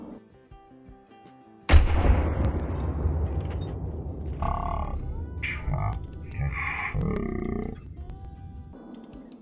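A single loud rifle shot rings out in Call of the Wild, fired at a mule deer. A long booming echo trails after it, with some faint game sounds later.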